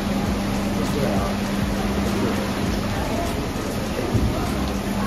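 Steady rain falls in cold weather in Kundasang, making a constant broadband hiss that lasts the whole clip. Voices talk over it.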